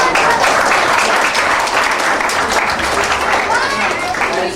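An audience claps their hands together at a community basketball event talk, a dense, loud wash of applause lasting several seconds with some crowd voices mixed in.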